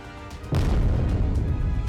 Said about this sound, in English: a massive explosion comes from deep within the underground complex